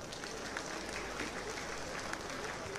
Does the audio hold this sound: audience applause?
yes